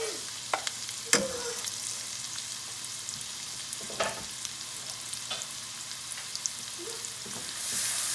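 Onion frying in a pan for shrimp scampi, a steady soft sizzle with a few sharper crackles and stirring scrapes, close and fairly quiet, with no talking.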